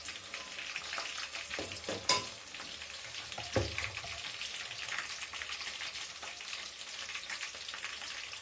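Chopped onions fry in a pan for a home-style matar paneer, a steady close hiss of sizzling oil with a couple of sharp clinks and stirring scrapes, no voices.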